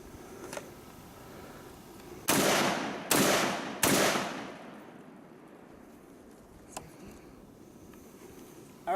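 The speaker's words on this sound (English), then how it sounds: "now what I'm gonna do is fire 3 rounds as fast as I can." Three fast rifle shots from an AR-10, each a loud sharp crack with a short decaying tail, fired about three quarters of a second apart outdoors, followed by quiet ambience.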